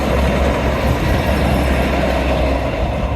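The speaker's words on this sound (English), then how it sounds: "Train!" A train passes at Teignmouth beside the lido, a loud, close, continuous rumble of wheels and engine with a broad hiss that holds steady without a break.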